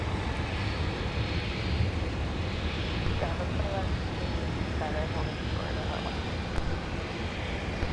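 An Alaska Airlines jet arriving from Seattle touches down on runway 12 left at snowy winter MSP airport, a steady, distant broadband engine roar with wind noise that holds evenly throughout, with faint voices in the background.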